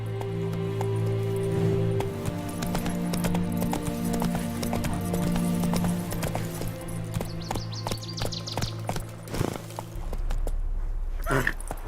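Horse hooves clip-clop at a steady galloping rhythm in a video game, loud and continuous with music in the background and an occasional whinny.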